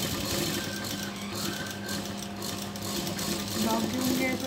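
A sewing machine runs steadily while stitching the sleeve of a night gown, a continuous close mechanical whirr with faint rhythmic clatter, with talking over it throughout.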